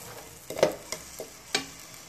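Chital fish frying in a pan make a soft background sizzle, broken by a few sharp stirring clacks and scrapes close by, with no voices.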